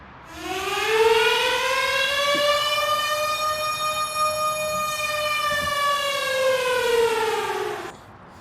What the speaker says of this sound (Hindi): अचानक से सायरन बजने लग गया।